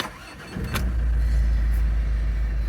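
A Mazda 5 engine cranks and catches, then settles into a steady, loud low idle rumble that fills the rest of the moment, with no voices.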